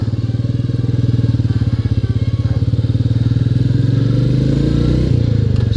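Royal Enfield Meteor 350 single-cylinder cruiser pulling away in first gear, a loud, close, steady thumping exhaust beat with rapid even pulses that hold through the whole stretch and rise slightly in pace near the end.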